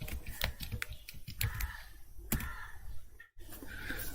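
Fingers tapping on a computer keyboard to type a command, scattered quiet clicks at an uneven pace, close but faint, with no talking.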